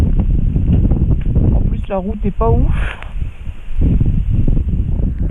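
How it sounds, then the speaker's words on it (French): Strong gusty wind buffets the microphone on an Irish road, a continuous low roar and rumble under someone speaking French throughout. "il y a du vent de malade qui nous déporte aussi sur la route"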